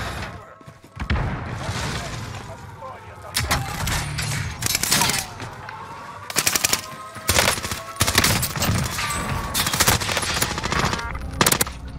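Video game gunfire from an OTS weapon in Rebirth: rapid automatic bursts and individual shots crackle close and loud in clustered volleys across the scene, with brief pauses between them.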